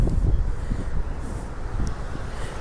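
Strong wind rumbles and buffets the microphone in low, uneven gusts throughout.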